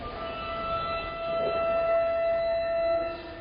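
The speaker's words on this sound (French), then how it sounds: "Cette sirène avise le conducteur et les passagers que le train est prêt à partir." A Paris Metro departure warning siren sounds as a steady high tone, held alone and fairly loud over station ambience for several seconds.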